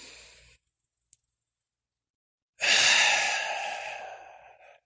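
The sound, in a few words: deep breathing in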